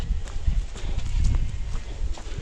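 Rapid thudding footsteps of runners crossing wooden boards laid over a forest trail during the Bocksten Trail Run, a steady run of clomping impacts, fairly close, over outdoor rumble.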